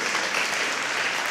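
An audience at a church talk claps and cheers, a dense, steady wash of applause filling the whole brief moment.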